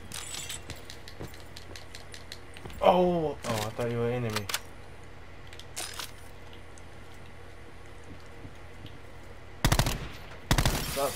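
Scattered bursts of rapid gunfire in the video game Call of Duty: Black Ops 4 at the start and end, with a voice talking in the middle, over a low background hum.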